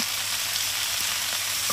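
A loud, steady sizzle of vegetables frying in hot oil with salt and turmeric, continuous and close.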